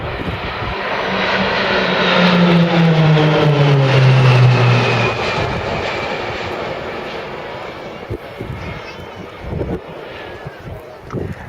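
Propeller aircraft of the Roulettes aerobatic formation team at the Barossa Air Show 2011 flying past, engines rising to a loud droning peak with a falling pitch sweep, then fading under wind noise, with a voice speaking over it.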